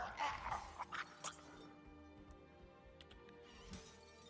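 Crates and supplies being smashed in the video game Guild Wars 2, a few sharp crashing hits close together early on, then fainter clinks and ticks over a low game ambience.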